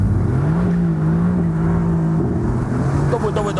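Mercedes-AMG GT S sports car accelerating with a loud, steady engine drone that rises in pitch, dips briefly as if shifting, then pulls on, heard up close from inside the car.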